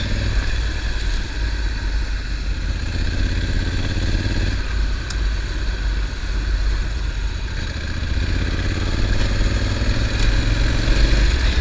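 Engine of a Honda Africa Twin adventure motorcycle on a Mount Hood ride, a loud, steady close drone with a low rumble and mechanical clatter running throughout, no talk.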